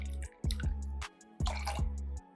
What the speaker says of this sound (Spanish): En el tope del jigger vamos a exprimir media onza.